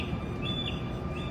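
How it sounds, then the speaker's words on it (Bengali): A bird chirps faintly a few times in the distance over a low, steady background hum. "পাখি ডাকছে শুনতে পাচ্ছ"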